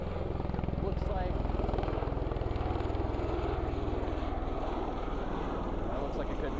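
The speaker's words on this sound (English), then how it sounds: "I believe that is Marine One that we see coming in at this point right now" Marine One, the presidential helicopter, arriving with a steady, loud, close rotor chop and engine roar that runs without a break, while a commentator's voice talks over it.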